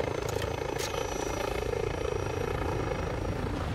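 A video game helicopter's rotor chops loudly and continuously with a rapid pulsing beat and engine whine, close and steady throughout.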